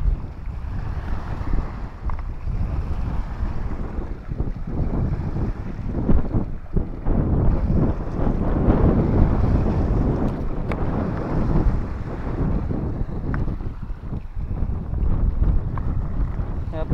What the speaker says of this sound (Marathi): हे बघा पाण्याच्या लाटा आहे का